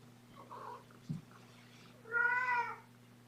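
A kitten lets out a loud, drawn-out wail of about a second near the end, rising and falling in pitch. It follows a softer meow-like sound and a brief bump, with a steady low hum running underneath throughout.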